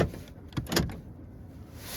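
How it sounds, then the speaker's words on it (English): Power door locks on a 2019-or-later Toyota RAV4 being tested from inside the car, with a few quick actuator clunks near the middle, close and moderately loud, over a quiet cabin hiss. "door locks."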